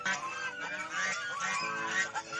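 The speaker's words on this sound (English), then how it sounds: "Goose sound." A goose honks loudly and repeatedly at close range in a continuous, nasal, blaring run of calls.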